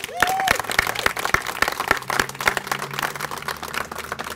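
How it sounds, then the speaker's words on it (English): Applause from a small audience at an outdoor community gathering marking improvements at Guilford and Oakland Mills Road, scattered claps rising near the start and then continuing steadily, with distinct individual hand claps and some voices in the background. "and we ought to applaud that."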